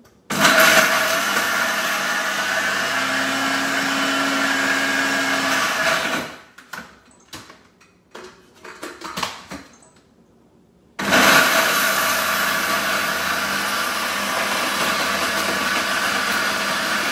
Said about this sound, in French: On met ça dans le bol du robot et je vais mixer ça.